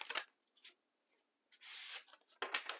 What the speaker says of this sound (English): let's do some shuffling so we can pull the main focus for the day